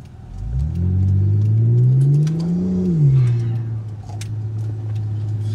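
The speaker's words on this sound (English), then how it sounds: "That blow-off valve is so oversized." Mitsubishi VR4 Legnum family car engine revving loudly, climbing and falling in pitch, with a sharp whoosh from an oversized blow-off valve as the throttle lifts, then settling into a steady idle rumble.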